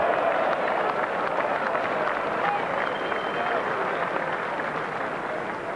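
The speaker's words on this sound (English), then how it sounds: "The crowd approve, they applaud" A crowd applauds at a 1982 Waterloo bowls match, steady dense clapping filling the whole stretch at an even level without pauses.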